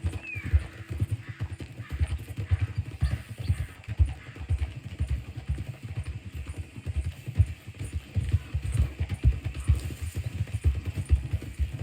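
Steady, rhythmic horse hoofbeats clip-clop close by for the whole stretch in the game Red Dead Redemption 2, a continuous trotting patter with a faint engine-like rumble underneath.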